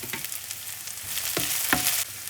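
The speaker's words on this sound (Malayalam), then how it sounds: "ചെറുതായിട്ട് നമുക്കൊന്ന് വഴറ്റിയെടുക്കാം" Chopped onions sautéing in a pan for a Kerala-style mushroom roast, a continuous soft sizzle broken by several clattering stirs and scrapes of a spoon against the pan.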